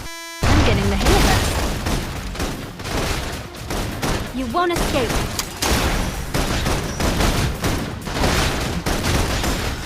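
Dense, continuous suppression gunfire from a sci-fi combat sequence in the video game Love and Deepspace, loud rapid bursts and booms layered over game music, with a character speaking briefly over the barrage.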